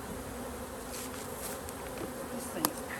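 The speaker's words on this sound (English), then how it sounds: "I'm trying not to put my hand on a bunch of bees." Honey bees buzzing around an open hive, a dense steady hum close by with faint rustles and one brief tap.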